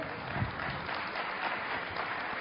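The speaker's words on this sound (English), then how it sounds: "Applause." Audience applause during a public debate-style talk, a steady even wash of clapping at moderate, somewhat distant level with no voices standing out.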